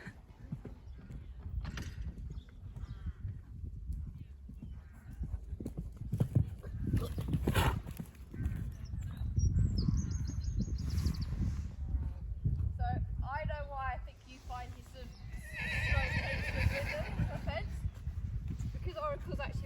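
A polo stallion's hooves clop over the ground amid background talk, with a horse whinnying partway through and again near the end.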